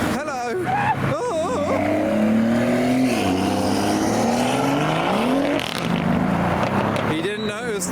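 A car leaving a car meet revs and accelerates hard nearby, its engine note climbing and dropping through gear changes, with people talking over it.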